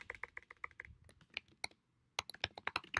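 Someone types on a computer keyboard, with quick, close, crisp key clicks in uneven bursts, a short pause near the middle, then a faster flurry of taps.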